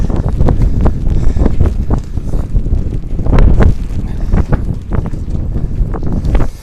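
Loud gusty wind buffeting the microphone in uneven bursts beside a Princess 38 motor boat at a pontoon, with occasional knocks and creaks in the background.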